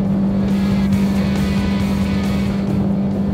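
The outboard motor on a Selva 600 Endeavour boat is running under strong power, with a loud, steady, close engine drone and a constant hum that hold throughout without speech.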